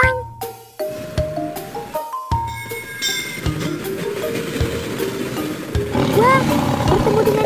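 A lion roars amid bright, bouncy children's music, with train-like sounds and a voice singing along.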